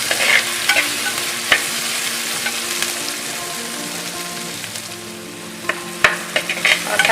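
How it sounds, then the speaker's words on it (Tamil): Onions, tomatoes and curry leaves sizzle and fry in a clay pot for a fish curry, with a steady hiss broken by occasional scraping stirs and clacks close by, and no talking. "அது கூட 2 தக்காளி, கொஞ்சம் கருவேப்பிலை ஆட் பண்ணிவிட்டு நல்லா வதக்கணும்"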